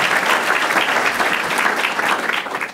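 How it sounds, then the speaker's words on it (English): A panel audience at a school policy discussion in Chicago claps in a dense, steady round of applause, loud and close, holding throughout before tapering off slightly at the end. "Give them a round of applause today"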